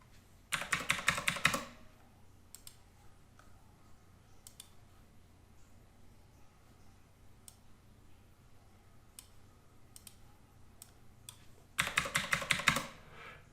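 Computer keyboard typing, entering a username and password: two short bursts of rapid keystrokes, one at the start and one near the end, with a few isolated clicks scattered through the quiet stretch between.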